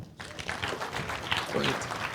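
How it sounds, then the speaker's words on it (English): Audience applause at a New York food policy summit: a steady wash of many hands clapping throughout, moderately loud and fairly close, with some crowd noise mixed in. "One more round of applause."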